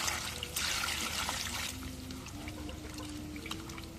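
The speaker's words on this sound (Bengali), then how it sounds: "পানি দিয়ে দিই।" Water is poured into a pot of country duck curry with raw jackfruit cooking over a rural clay stove, a steady splashing pour in the opening second and a half that settles into a low, continuous simmer.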